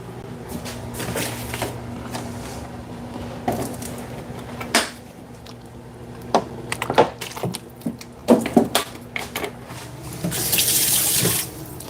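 A tap runs water into a sink, with steady splashing close by for several seconds, broken by clinks and clatters of handling and a stronger gush near the end.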